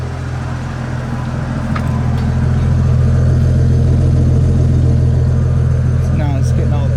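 A 1985 Ford F150 with the 300 inline-six engine idles steadily close by, a low even rumble that swells slightly partway through, with no talking over it.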